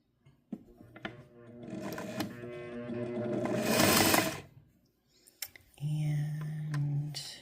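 A Singer 401A Slant-o-Matic sewing machine runs in bursts of rapid mechanical stitching, with clicks and pauses between runs, close and moderately loud, with a brief voice heard alongside.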